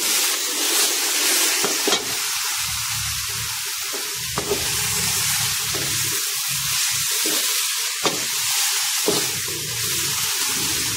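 Fried rice with cabbage being stirred in a hot pan, a steady sizzle running throughout with periodic scraping clicks of the utensil against the pan, close and fairly loud, no talking.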